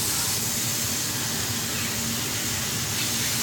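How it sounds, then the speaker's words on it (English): French toast sizzles in a hot pan with a steady, even hiss that stays continuous and fairly loud, with no talking over it. "Nice sizzle."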